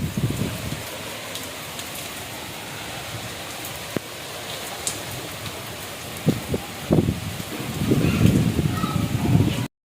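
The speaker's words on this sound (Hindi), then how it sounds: "बहुत ज़्यादा तेज़ बारिश हो रही है।" Heavy rain pouring outside a house, a dense continuous hiss with scattered louder drips and splashes building toward the end, no talking.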